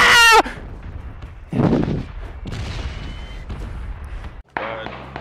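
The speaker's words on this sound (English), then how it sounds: "Someone's shooting." Gunfire in the video game PUBG, heard as a few sharp loud bursts separated by quieter gaps, with a voice briefly speaking between the shots.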